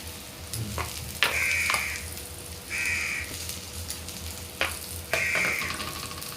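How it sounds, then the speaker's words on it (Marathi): Green chillies fry in a pan with ground spice paste and chopped coriander for a spicy chilli fry, giving a steady close sizzle broken by a few sharp scraping stirs and faint background crow caws. "व्यवस्थित परतून घ्यायचं आहे सर्व मिरच्यांना व्यवस्थित मसाला"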